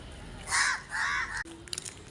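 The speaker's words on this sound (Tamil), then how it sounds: "காக்கா கொத்திர போகுது." A crow gives two harsh, drawn-out caws close by, followed by softer faint calls and rustling outdoors.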